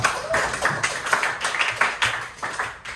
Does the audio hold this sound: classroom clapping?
yes